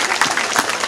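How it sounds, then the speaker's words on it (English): A big sea lion at a wildlife park claps its flippers for a show, a quick run of sharp slapping claps that sounds close and fairly loud for under a second. "that is that big clapping sea lion"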